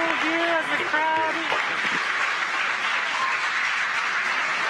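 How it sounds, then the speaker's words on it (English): Spectators cheer and applaud the SpaceX Dragon Freedom capsule's ocean splashdown with crew aboard, a steady wash of distant clapping and cheering behind a voice speaking at the start. "The crowd goes wild for crew 4."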